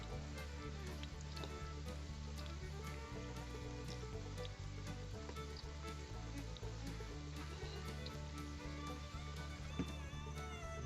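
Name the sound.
cauliflower pakora frying in oil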